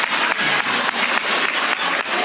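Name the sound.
applause, audience clapping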